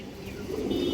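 A female stone-eyed chila pigeon from an old line coos once, softly and close by, in a brief low throaty murmur with no talk.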